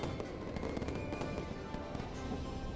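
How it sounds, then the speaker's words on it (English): Fireworks in a Wuthering Waves game trailer, a continuous faint crackling barrage with rapid pops and bursts under a low rumble. "there's so many fireworks"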